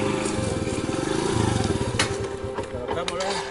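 Motorcycle engines putter and rev nearby, a throbbing, rattling drone that rises and falls, with people talking over it.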